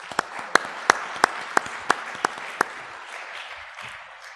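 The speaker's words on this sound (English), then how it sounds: "a big round of applause for our presenters" A small audience at a drone industry conference claps for the presenters, with sharp individual claps standing out at a steady rhythm over a softer, thinning spread of applause.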